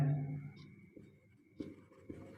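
Soft tapping and scratching strokes of writing on a board in a Class 10 maths lesson on geometry, a few quiet marks spaced apart in a quiet room.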